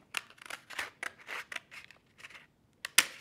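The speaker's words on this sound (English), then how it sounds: "So I'm going to cut right along this line." Scissors snipping along a line through cardboard, a rapid series of close, crisp crunching cuts in an uneven rhythm, ending with a louder final snap.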